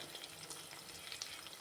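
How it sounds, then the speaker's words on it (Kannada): Ginger-garlic paste with turmeric and chili powder sizzles steadily in a pan, a soft, continuous frying hiss heard alone and fairly faint. "ಇದನ್ನು ಇವಾಗ ನೀಟಾಗಿ ಫ್ರೈ ಮಾಡ್ಕೊಳ್ಳೋಣ."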